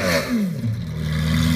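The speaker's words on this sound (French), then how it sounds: "V12 atmosphérique qui fait un bordel stock, mais clairement il a changé l'échappement" A naturally aspirated Lamborghini Aventador LP 750-4 V12 with a modified exhaust revs up and settles, its loud, raspy engine note rising and falling close by over a second and a half.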